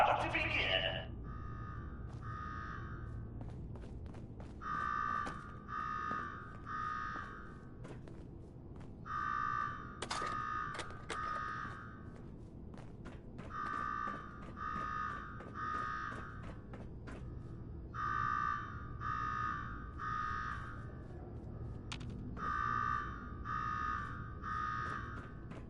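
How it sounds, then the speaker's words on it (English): In the Fallout 4 video game, an alarm sounds in repeated groups of three buzzing electronic pulses that cycle steadily and fairly quietly beneath faint background clatter. "Now go shut off that damn alarm."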